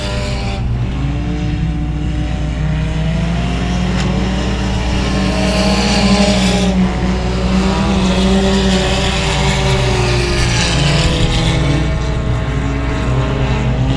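Race cars roaring around a speedway oval in a loud, continuous engine drone with rising and falling pitch as cars pass side by side, close and dense, with no speech.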